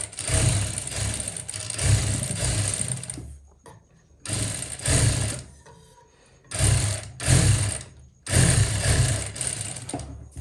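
A sewing machine stitching the cuff of a suit sleeve runs in four loud, rapid bursts separated by short pauses, with a close, mechanical whir and clatter.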